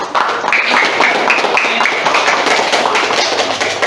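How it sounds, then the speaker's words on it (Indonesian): Clapping in a classroom during an on-the-job training lesson: a dense, loud patter of many hands clapping at once, held steady for several seconds with a faint voice in the background. "Tepuk tangan dong."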